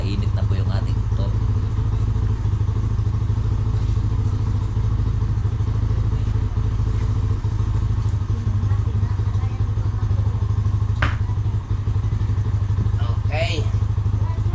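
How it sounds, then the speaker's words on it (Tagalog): A warmed-up motorcycle engine idles steadily and close by, a continuous low throbbing hum that holds for the whole stretch, with a few clanks and thumps and brief voices over it. "Yan, nakainit na po yung ating motor."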